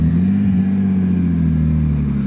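Mazda FD RX7 with its blow-off valve welded closed makes a steady, loud engine drone with a low fluttering rumble from the turbo, close by and unbroken, with no talking.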